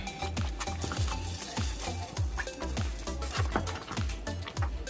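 A spoon stirs jollof rice stew in a pot with rhythmic strokes about twice a second, each stroke a wet swish and scrape over a low bubbling simmer, close and continuous.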